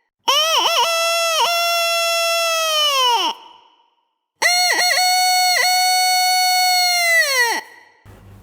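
A Thai flute plays two long, bright phrases imitating a chicken's crow, each with quick wavering notes, separated by a short pause.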